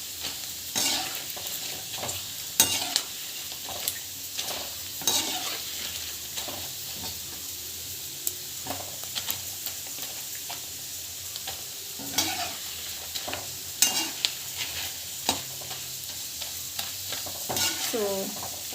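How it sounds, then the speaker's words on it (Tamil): Food being sautéed in a pan: a soft continuous sizzle broken by repeated stirring scrapes and spatula knocks, close by and moderately quiet, with no one talking. "இது மாதிரி வதக்கி எடுத்துடுங்க"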